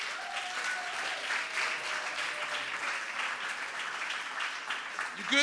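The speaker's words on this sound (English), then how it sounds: "big round of applause for our wonderful judges" Poetry slam audience members applaud the judges in a sustained, moderately loud round of clapping, with faint voices and a brief tonal whistle-like sound drifting beneath the hands.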